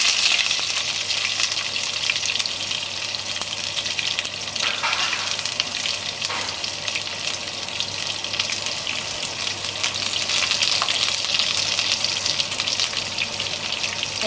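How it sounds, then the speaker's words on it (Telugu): Chopped onions dropped into hot oil in a pan sizzle and fry steadily, a dense continuous hiss that stays fairly loud throughout with no talking. "ఈ ఆయిల్ లో మనం కట్ చేసుకున్న ఆనియన్స్ కొన్ని వేసుకుందాము"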